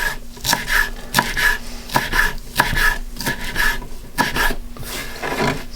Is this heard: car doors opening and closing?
no